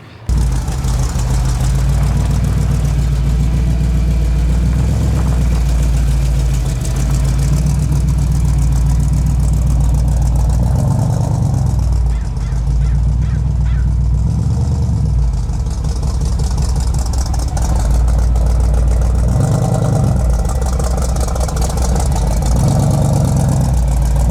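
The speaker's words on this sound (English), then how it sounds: "Let me back the truck in here" An old truck with a damaged fan shroud backs slowly into place, its engine holding a loud, steady low idle with small rises in revs throughout, close by and with no talking.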